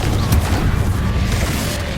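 A fantasy video game blasting-curse spell explosion: a single loud, heavy boom with a rumbling low-end burst that fills the whole two seconds, with no voices.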